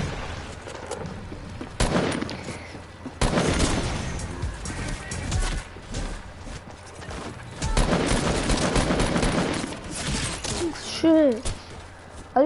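Video game gunfire, with repeated bursts of loud automatic shots and crashes rattling in clusters across the stretch, while players talk and shout over the action.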